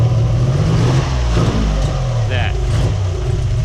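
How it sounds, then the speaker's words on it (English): Cold Nissan 300ZX Z31 engine running steadily just after startup with old injectors, a low continuous rumble throughout, close by, with a person talking briefly over it. "Obviously, the engine is cold. We literally just started it."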